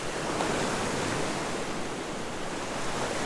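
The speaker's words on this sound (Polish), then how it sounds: "No zobaczcie jakie fale są. Straszne." Continuous roar of large ocean surf on a beach at Sozopol, Bulgaria, a dense broadband wash of breaking waves without pause, fairly loud and steady.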